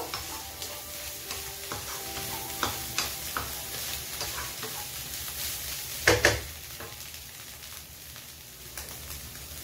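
Butter-cooked food being stirred in a pan on a gas stove, a steady soft sizzle with scattered scraping and tapping of the spoon and one louder clatter midway, no voices.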